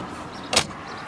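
A CHAdeMO charging plug is pushed into the port of a 2018 Nissan Leaf, making a single short clunk in a quiet setting with faint background hum.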